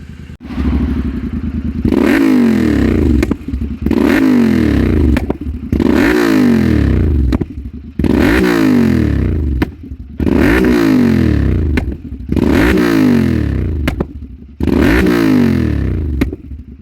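A Royal Enfield Interceptor 650 motorcycle, freshly tuned by Code 6 in Bengaluru, is revved hard in repeated loud bursts, about seven throttle blips each followed by a clattering decay and short pause, close and alone.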